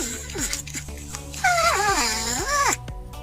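A porcupine gives short, high, whining chirps that rise and fall in pitch, several squeaky calls in quick succession, close and alone.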